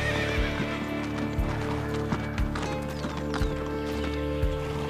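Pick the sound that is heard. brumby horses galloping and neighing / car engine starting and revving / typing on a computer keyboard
brumby horses galloping and neighing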